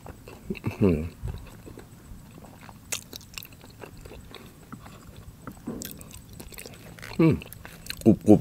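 Close, crisp crunching bites and chewing come in a few bursts, separated by quiet pauses and faint background noise.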